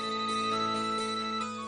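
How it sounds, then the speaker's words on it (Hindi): A phone rings with a steady electronic tone that holds for under two seconds at moderate volume, with no voices over it. "बबक मैया फोन को आया है।"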